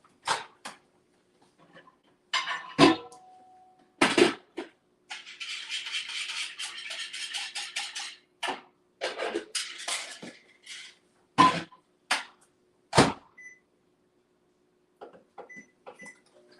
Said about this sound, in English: grab my whisk, give it a quick stir